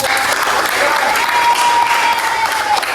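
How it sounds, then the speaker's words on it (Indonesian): Fifth-grade pupils in a classroom clap together after a correct answer during a religion lesson, a loud, continuous burst of applause with a faint tonal sound running under part of it. "Tepuk tangan dong, Bang"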